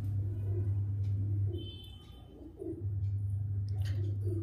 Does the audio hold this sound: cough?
no